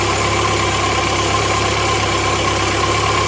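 A Mazda MX-5 engine with a faulty sensor and engine light on idles unevenly, a steady close hum with a low throb and broadband mechanical noise running throughout, with no voices.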